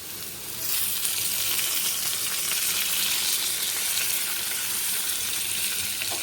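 Cashew and bitter gourd curry cooking in a pan, a steady, loud, close sizzle and frying hiss holding evenly throughout with no talk.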